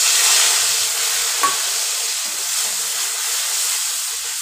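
Spices and bay leaf frying in oil in a pan for a Bengali potato and pointed gourd curry, a steady close hiss and sizzle running throughout with no talk.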